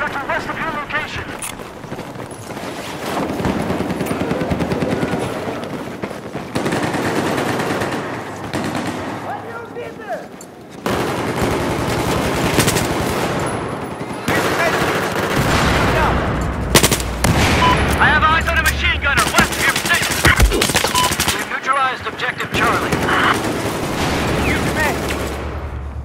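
Machine gun fire in the video game Battlefield 4, with dense continuous bursts and rattling shots alongside explosions and rumbling battle noise, loud and close throughout, with game voice chatter mixed in.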